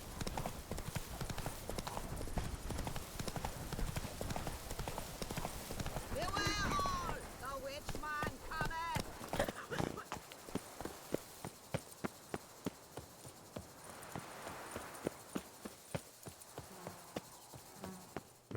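In The Witcher 3, the horse Roach gallops with rapid rhythmic hoofbeats that continue throughout, growing crisper and more distinct toward the end. A background hum of insects runs underneath, and voices speak over the first part.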